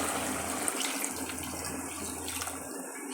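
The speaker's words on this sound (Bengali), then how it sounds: "এখন পরিমাণ মতো পানি দিয়ে দিব, বারবার তলায় লেগে যাচ্ছে।" Water is poured into a pot of curry that keeps sticking to the bottom, a continuous close splashing and gurgling stream with no voices.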